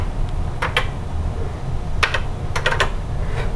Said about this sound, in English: Let me check this keyboard.